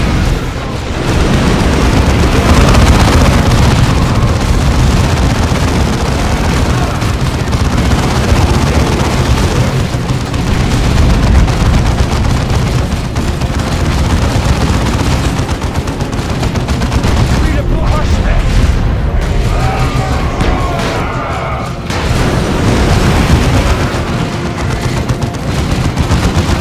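Relentless enemy gunfire and explosions in a Warhammer 40,000: Dawn of War II battle, dense overlapping bursts and booms filling the whole stretch at loud, steady intensity without a pause.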